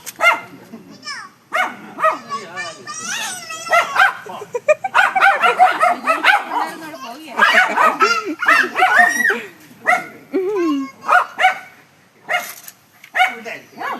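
A dog barks and yelps repeatedly in short bursts, close by, mixed with excited voices talking and calling out.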